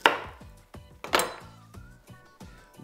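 Fresh broccoli crown snapped apart by hand into florets in a kitchen, a handful of sharp cracking breaks with short woody knocks between them, close up and clear with no talk.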